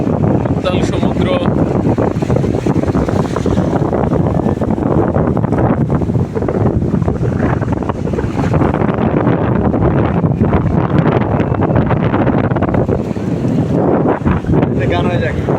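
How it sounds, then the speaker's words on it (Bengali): Roaring wind and rough sea churn steadily around a boat off Cox's Bazar, a loud, continuous buffeting rush with waves slapping beneath, and possible faint voices mixed in. "উত্তাল সমুদ্র।"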